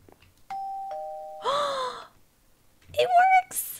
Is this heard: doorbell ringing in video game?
yes